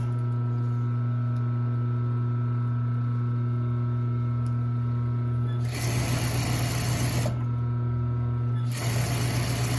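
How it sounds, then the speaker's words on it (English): A sewing machine stitches a cotton face mask over a steady motor hum, with two clear bursts of fast, rattling stitching in the second half, close and moderately loud. "I'm using a zipper foot because it lets me see when my needle placement a little bit better"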